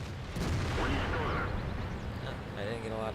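Tank cannon fire from an SU-100 tank destroyer in World of Tanks, heavy booming blasts and rumble over continuous engine and battle noise, with someone talking over it.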